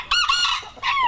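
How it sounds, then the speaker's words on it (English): Backyard chickens on a farm cluck and squawk in two short, close bursts, loud and clear with no talking. "This might look like a typical farm with a whole bunch of chickens."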